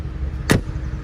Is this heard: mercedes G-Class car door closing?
yes